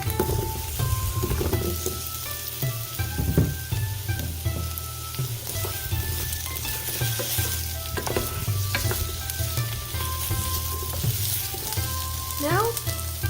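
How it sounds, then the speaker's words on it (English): Potatoes sizzling and frying in a pan for Japanese nikujaga, a loud continuous crackling sizzle with occasional stirring scrapes and clinks, close up and without talk. "And now add potatoes."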